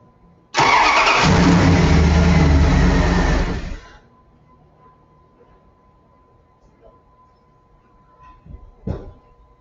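A car's starter cranks the engine with its headlights switched on, a loud, steady grinding run of about three seconds that cuts off abruptly, leaving quiet with faint clicks and a brief thump near the end.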